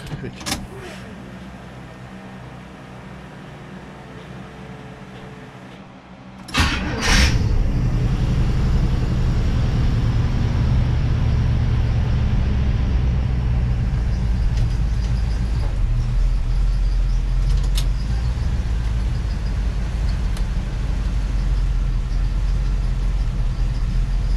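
An International Scout engine fitted with FiTech EFI fires up on a hot start, then settles into a steady low rumbling idle after a brief cranking burst, close and continuous with no talk over it.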